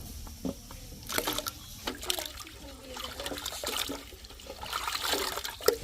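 Raw chicken feet, nails already trimmed, rinsed under running water in a village kitchen: a steady trickle and splash of flowing water with occasional spatter, close and moderately quiet, with no voices.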